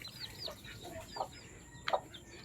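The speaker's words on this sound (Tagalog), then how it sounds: "So aalpasan na rin natin ang inahin kasama na yung mga sisew nya." Soft clucking from a hen, a few short calls with a couple of sharper peeps near the end, close by and otherwise quiet.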